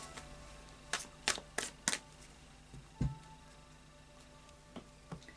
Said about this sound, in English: So final shuffle of the Fairy Oracle by Brian Froud.